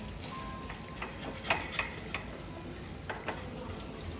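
Fish frying hot in a pan, an even close sizzle with occasional spatula taps and soft clicks, no voices.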